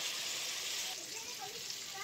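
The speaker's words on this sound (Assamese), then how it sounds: "এতিয়া অকণমান সময় ভাজি ল'ম এনেকৈ মছলাখিনি" Spice masala frying in oil in a pan for a dish of banana flower and chana bhaji, a steady soft sizzle with faint bubbling and stirring throughout.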